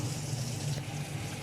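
Water poured steadily onto washed rice in a pot, a continuous close splashing stream for rice cooking in a Réunion rougail boucané recipe.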